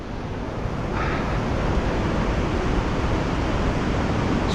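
Mıhlı waterfall in the Kaz Mountains, its water running high, roars as a loud, continuous broadband rush close by, with no voices.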